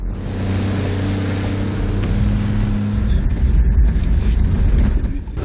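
The crew vehicle of a HIMARS unit pulls away and drives off, its engine rising into a steady close rumble with road and wind noise building over several seconds.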